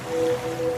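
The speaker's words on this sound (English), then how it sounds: "now you're drifting asleep to the scent and sound of waves" Ocean waves as a sound effect, a brief steady wash of surf with a faint tonal hum under it, moderately loud and alone.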